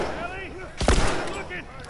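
A single gunshot rings out in The Last of Us Remastered, a sharp loud blast with a short tail, heard over background game sounds and a faint voice.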